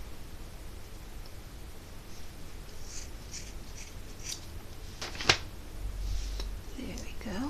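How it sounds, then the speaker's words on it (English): Scissors make a few soft, brief snips while cutting yarn loops on a handmade yarn doll, faint against a quiet room hiss, with one sharper cut standing out. "So you find your loops and just cut them."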